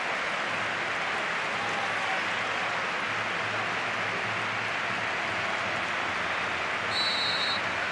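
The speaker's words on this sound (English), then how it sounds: "The applause for Dani Alves, by the way, number 21 in the minute 21." A football stadium crowd at a La Liga derby between Espanyol and Barcelona applauds a player, a broad, steady wash of distant clapping and crowd noise with a brief higher tone near the end.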